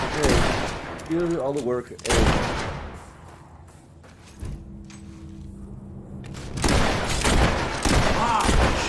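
Bursts of gunfire from the video game Fable III, several loud volleys near the start and end with quieter stretches between, mixed with game voices and a person talking.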